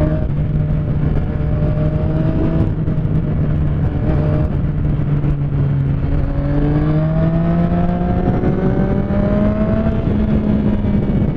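Motorcycles rev and accelerate on a street in Curitiba, engine tones climbing and falling in several overlapping whines, loud and steady with no talk.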